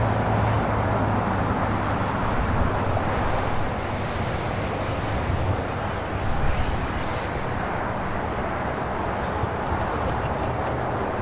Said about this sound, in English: This is Japan Airlines Flight 15 taking off to Tokyo Haneda on a 787-9 Dreamliner in the One World livery.